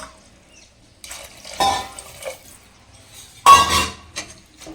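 Water poured into a jug of measured rice for ghee basmati rice, about one and a half parts water to one of rice: two splashy, close pours with light clinks of the jug between quieter pauses, no talking.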